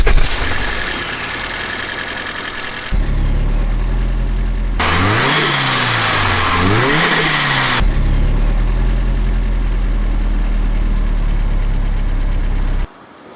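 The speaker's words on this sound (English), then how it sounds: "The engine is very quiet" A BMW E21 with a turbocharged M10B20 engine idles with a steady low rumble, broken midway by a few seconds of revving that rise and fall twice before settling back to idle.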